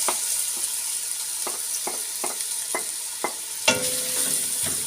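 Chopped onions fry in hot oil while a spoon stirs them in a steady rhythm of scraping strokes, then a louder burst of sizzling rises near the end.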